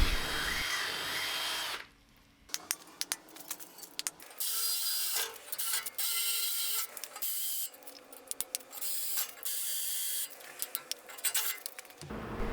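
A sharp bit drills into metal with cutting oil, a loud steady grinding whine that stops and restarts several times with short pauses and clinks between bursts, close up.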